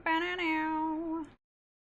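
A person imitating a cat's meow with the voice, one drawn-out nasal meow lasting just over a second, close and fairly loud, then silence.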